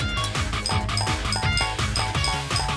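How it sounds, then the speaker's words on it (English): Menu music for the extras in the video game Rhythm Heaven Fever, a bouncy, steadily repeating tune with plinky bell-like notes, playing loud and continuous. "That's what the extras sound like."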